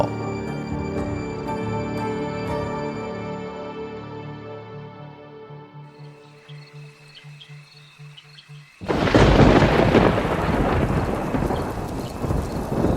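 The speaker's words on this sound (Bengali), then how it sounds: "ঝড় বৃষ্টিময় একটি রাত। শোঁ শোঁ শব্দে ঝোড়ো হাওয়া ঝাপটা মারছে জানালায়।" A night thunderstorm bursts in with a loud crash of thunder and heavy rushing rain and wind against the windows, following a stretch of soft, moody music.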